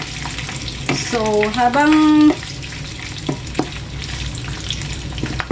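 Pork belly sautés in a pan, its fat rendering with a steady close sizzle and a few sharp pops, while someone speaks briefly over it.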